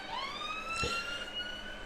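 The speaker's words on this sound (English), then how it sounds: "I'll let that siren go by." Emergency vehicle siren wailing as it passes, a steady rising and falling tone heard at moderate distance across the whole short stretch with no talk over it.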